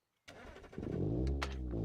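A Hirochi Sunburst 1.8 engine in BeamNG.drive cranks briefly, then catches and settles into a loud, steady, close idle with a slight rev partway through, with no talking.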